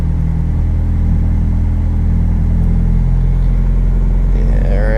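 A Mazda 420a rotary engine on Megasquirt runs at low throttle with a loud, dense, low rumble and a steady pulsing drone, and a slight rise in tone near the end.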